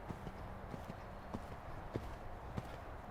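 Hooves of a horse cantering in show jumping schooling, with steady rhythmic thuds spaced about every half second, fairly close and clear over a quiet arena background.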